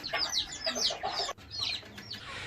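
Busy clucking and squawking from several young roosters, close and continuous, with a brief break midway before the calls resume.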